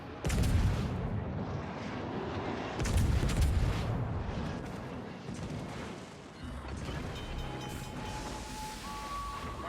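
Booming naval gunfire from World of Warships, with heavy low-frequency salvos rolling in over a constant roar of sea and wind, loud and layered, no speech.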